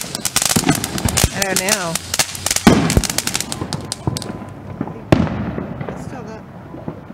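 Fireworks burst repeatedly outdoors during an Independence Day celebration, a dense run of sharp cracks and booms with one loud blast near the end, while people talk and exclaim over them.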